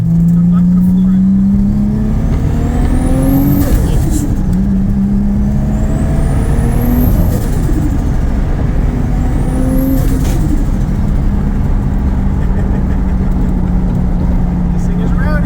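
A big-turbo RB25-swapped Nissan 240SX accelerates hard through several gears, loud engine revs rising and dropping with turbo whistle and whooshes between shifts, heard from inside the car.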